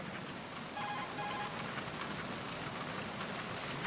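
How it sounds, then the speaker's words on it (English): Steady rain hisses without a break in Metal Gear Solid 2, a dense, even wash of falling water that stays loud for the whole stretch, with a few faint electronic beeps briefly over it. "Some people think something wrong with my mic when we do the calls here because of the rain sound."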